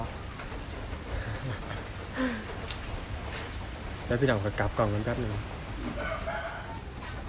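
Rain patters steadily on surfaces outdoors, a constant hiss beneath someone speaking Thai, with a few faint chicken calls in the background.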